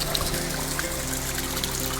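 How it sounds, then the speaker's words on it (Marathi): A constant stream of water flows out of rock at the Shingnapur Guptling shrine, a brief, even pouring trickle heard up close. "हे सतत पाणी वाहत आहे"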